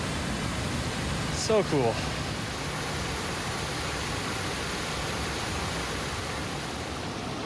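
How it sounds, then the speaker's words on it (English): Steady broadband roar of a waterfall heard from above it on a creek in the mountains, constant and enveloping, with a brief voice speaking over it. "Waterfall's down right over here."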